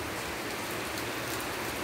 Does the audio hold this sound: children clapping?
no